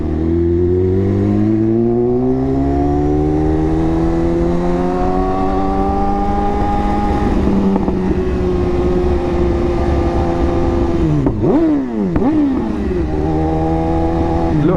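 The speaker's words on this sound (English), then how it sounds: "I have to give him a rev bump" A car engine revs repeatedly up and down, loud and close, with rising and falling pitch sweeps and two sharp blips near the end, no one talking over it.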